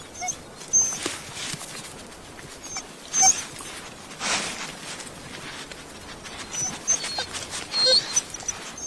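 A wild female wolf begging with whimpers: thin, high, repeated whines scattered over faint rustling and patter, fairly close.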